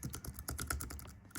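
Quick, irregular clicking of typing on an external keyboard paired with an old iPad 1, close and crisp keystrokes in a rapid burst with a brief pause near the end.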